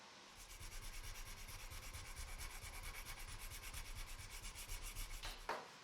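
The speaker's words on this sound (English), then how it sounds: "I took all of the handles up to 600 grit before polishing them on the buffing wheel." Kitchen knife handles are sanded by hand up to 600 grit, giving a continuous rhythmic rubbing and scraping of abrasive strokes, close and steady, ending with a brief knock.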